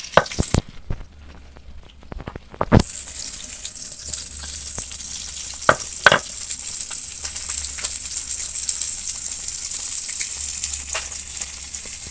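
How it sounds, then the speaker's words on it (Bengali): Sarpunti fish frying in a pan for a Bengali fish curry, a steady close sizzle that runs throughout, with a few sharp clinks and taps near the start and scattered utensil knocks over the hiss. "মাছ ভাজা হতে থাকুক"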